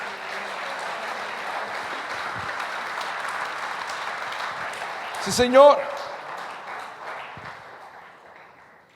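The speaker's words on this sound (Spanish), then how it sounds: "Da un fuerte aplauso a Jesús" Church congregation at a Spanish evangelical service applauding, a broad wash of clapping under a brief spoken voice, rising to a short peak midway and then fading away.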